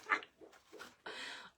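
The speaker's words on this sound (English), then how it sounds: "Y'all hear my dog? She's dreaming." A sleeping dog whimpers and squeaks while dreaming, a few soft nasal whines and snuffles close by, the last one a longer breathy whine, quiet and alone.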